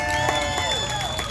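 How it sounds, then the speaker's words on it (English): Audience at a hillside dedication ceremony clapping and cheering, a dense wash of applause with whoops and a few voices mixed in, moderately loud and brief. "Please give an applause."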